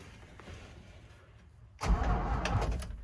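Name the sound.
1974 Toyota FJ40 engine cranking over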